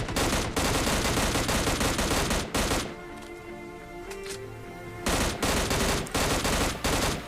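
Bursts of automatic gunfire in PUBG Mobile Lite, loud dense volleys before and after a short lull with quieter ambient game sound, no voices.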